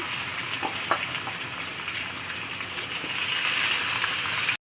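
Onion and garlic sizzling in hot oil with whole spices while goat curry is prepared, a steady close crackle and hiss that swells slightly toward the end, with no one speaking.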